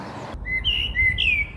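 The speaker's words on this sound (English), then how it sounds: "The blackbird was singing in the tree and dawn chorus was so loud." A blackbird sings in a tree during a loud March dawn chorus, a few clear, fairly close whistled phrases over soft background hiss, following a brief burst of broadband noise at the start.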